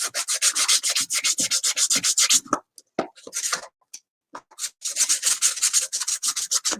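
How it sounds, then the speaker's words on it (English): Coarse fingernail file, made for artificial nails, rubbing in quick rhythmic strokes up close, a dense scraping burst that stops for a few seconds of scattered small sounds, then resumes steadily. "Just a coarse fingernail file."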